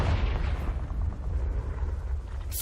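A Confringo blasting spell goes off in the Hogwarts Legacy video game: a sustained, heavy rumbling explosion with dense low boom that rolls on for the whole moment, ending in a brief hissing burst.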